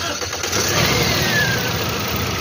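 A 2010 Toyota Yaris/Vios engine with an overheating problem cranks and catches, then runs with a steady, loud, close-up roar for the rest of the moment.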